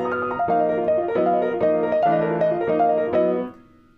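Jazz piano, right-hand voicing held while the left-hand bass notes move beneath it: seven or so struck chords in steady succession, close and unaccompanied, the last ringing out and fading.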